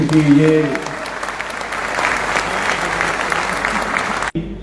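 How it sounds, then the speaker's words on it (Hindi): An indoor audience at a Modicare business event bursts into sustained, loud applause that fills the room, with a speaker's voice briefly heard at the start before the clapping carries on and cuts off abruptly. "आप जितने भी लोग पहले जो लोग खड़े उनके लिए तालियां बजा दीजिए"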